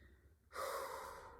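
One deep breath drawn in through the nose and mouth, close and soft, rising suddenly out of near silence and holding as a long airy inhale.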